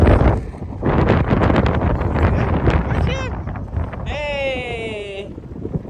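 Wind gusts across a boardwalk in Wildwood, New Jersey, with a steady broadband rush close to the microphone. People talk over it, and a brief whistling tone sounds near the end.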